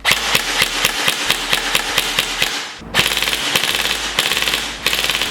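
An HLF ARP9 gel blaster running on an 11 volt battery fires close and loud, first a string of evenly spaced single shots, then rapid full-auto bursts of sharp mechanical cracks.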